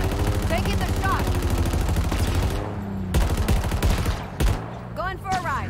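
Gunfire in the Halo Infinite video game, with loud bursts of shots cracking out over a continuous battle din while voices talk throughout.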